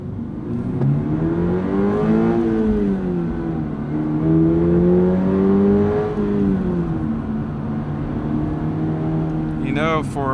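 A Toyota GR86 four-cylinder engine revs up and down steadily, its rising and falling tone loud and close throughout, with a voice talking over it.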